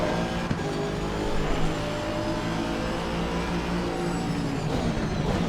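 Racing cars on the Mount Panorama track in the video game Assetto Corsa Competizione, a Bentley and an Aston Martin among them, with continuous loud engine drone and tonal whine held steady throughout.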